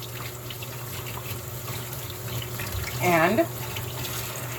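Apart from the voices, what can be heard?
washing green bananas in a pot in the sink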